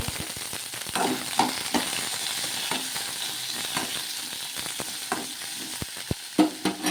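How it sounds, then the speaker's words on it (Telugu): Small tomato and green chilies sizzle in a little oil in a pan while cooking for a bottle gourd idli, a steady close frying hiss broken by sharp clinks and scrapes of stirring, with no talk. "ఇప్పుడు ఒక చిన్న టమోటో పచ్చిమిర్చి వేసుకొని ఇప్పుడు కొంచెం ఆయిల్ వేసుకొని ఇది మగ్గించుకోవాలన్నమాట"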